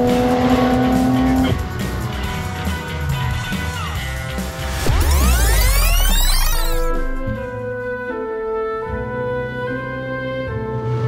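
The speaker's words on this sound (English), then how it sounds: "I'm now driving the BMW 2000 SA, a odd and uniquely designed car." A BMW 2000 SA car drives loudly and steadily, with a brief rising tyre squeal midway and a tonal, music-like layer throughout.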